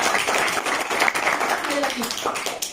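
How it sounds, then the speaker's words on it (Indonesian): Classroom applause for a student during a school science lab lesson, a burst of hand clapping from a group that fills the short moment, fairly loud and close, with voices mixed in. "Tepuk tangan."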